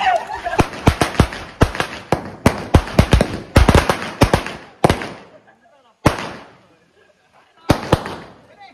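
Diwali firecrackers burst nearby in rapid clusters of sharp cracks and pops, then thin out into a few isolated loud bangs with quiet gaps between.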